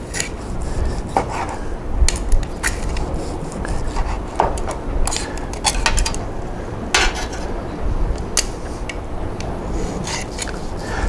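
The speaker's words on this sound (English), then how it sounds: "we want to cut nice and thin pieces against the grain" Knife slicing a rested Hawaiian-style steak into thin pieces against the grain on a cutting board, with repeated sharp clinks and scrapes of the blade and utensils over a steady kitchen background.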